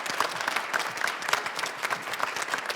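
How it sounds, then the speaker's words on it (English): Scattered applause from the audience at a holiday jazz concert, a steady patter of hands at moderate distance with no one speaking over it. "Can we just get one big round of applause for both of them?"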